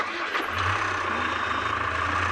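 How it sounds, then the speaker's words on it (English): A noisy safari vehicle engine runs steadily in the South African bush, a continuous low rumble and drone close by, with no talking over it. "I'm driving a bit of a tractor now at the moment. The engine's quite noisy, so forgive me."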